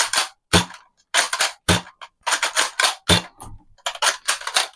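A Nerf shell blaster fired repeatedly, a series of sharp, loud snapping shots in irregular bursts with brief silent gaps between them, close by and with no talking.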